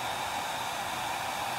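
A hair dryer blows steadily at close range over painted craft pieces, a loud, continuous airy whoosh and whine with no pauses or voices.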